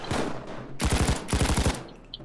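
Brenner light machine gun firing in Payday 2, loud rapid bursts of automatic fire in two close, sharp strings separated by brief pauses, with no talking.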